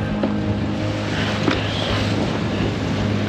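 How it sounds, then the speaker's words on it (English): Wind rushing over a sailboat at sea on a passage toward Catalina, a loud continuous buffeting roar close to the microphone with low rumbling gusts, no talk. "Try to block the wind if I can."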